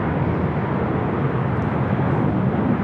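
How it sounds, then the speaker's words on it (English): A heavy Delta Airlines Boeing 767-300ER arrives at LAX from Honolulu, its engines a loud, steady broadband roar that holds evenly throughout. "Next arrival is a heavy Delta Airlines flight 427, coming in from Honolulu."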